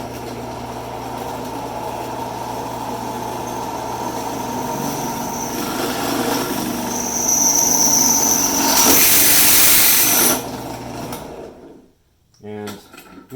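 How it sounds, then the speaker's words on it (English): Inexpensive drill press boring through a stainless steel faceplate with cobalt bits, giving a continuous motor hum that builds to a louder, harsher grinding whine before stopping. A short clatter follows the cutoff. "It's a fairly inexpensive drill press, so it's not perfect for this, but it works."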